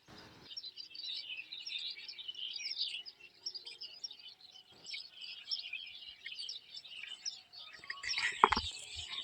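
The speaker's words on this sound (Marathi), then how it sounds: "चिमण्याचा आवाज ऐका तुम्ही, सकाळचं दृश्य गावाकडलं" Sparrows chirp and twitter continuously at a distance in the morning, a busy, faint chorus of high tweets in a quiet village setting.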